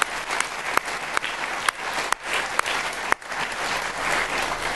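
Audience at a writers' festival evening applauds warmly, a sustained, full round of clapping from a large crowd, with a few sharper individual claps standing out.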